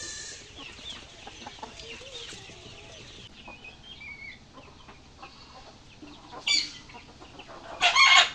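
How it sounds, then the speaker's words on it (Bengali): Farm chickens cluck and squawk close by, with a few sharp louder calls near the end over quiet outdoor background noise; no one speaks. "আপনারা দেখলেন যে কিভাবে মুরগিগুলো আমার পিছু পিছু দৌড়ে আসলো"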